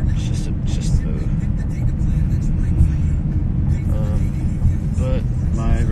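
A car pulling up to collect someone on a street, a steady close engine and road rumble dominating, with faint voices breaking through at moments.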